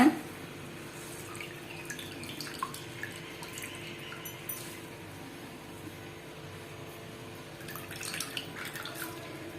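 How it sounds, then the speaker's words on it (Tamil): Water drips and trickles as soaked grated potato is squeezed by hand over a bowl while making aval bonda, faint and close, with scattered small splashes against a quiet kitchen background. "தண்ணி இல்லாமல் நல்லா புழிஞ்சுக்கோங்க"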